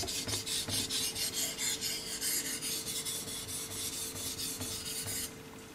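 A steel blade is honed on a Belgian coticule whetstone, giving a steady run of close, rasping strokes in a regular back-and-forth rhythm that softens and stops near the end.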